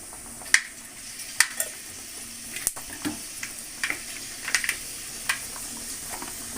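About ten fenugreek seeds join spluttering mustard seeds in hot oil for a chickpea kuzhambu, giving scattered sharp pops and crackles over a low, faint sizzle.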